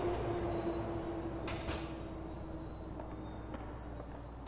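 A subway train in Grand Theft Auto IV rumbles steadily along the tracks, with a faint wheel squeal and clattering carriages, heard alone with no voices.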